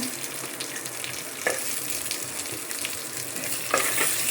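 Onion frying in a pan at home produces a continuous close sizzle with occasional louder crackles and stirring scrapes, no talk over it.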